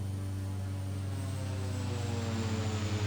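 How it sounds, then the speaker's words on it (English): A TBM turboprop plane passing close by in the Infinite Flight simulator, a steady droning engine hum with a faint pulsing rise as it goes by, alone without talk. "I hear a flyby happening right next to me."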